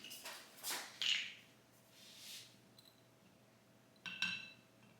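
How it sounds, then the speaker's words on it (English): A glass bottle clinks faintly and sharply a few times as it is picked up and set down in a quiet kitchen, with soft handling rustles between the taps. "Let me grab another bottle because that one's empty."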